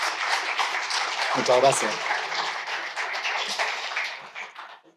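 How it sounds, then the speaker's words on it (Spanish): Audience applause for a doctor about to give a talk at an academic event, steady clapping filling the room and fading out near the end, with someone briefly speaking over it. "Un aplauso para él, por favor."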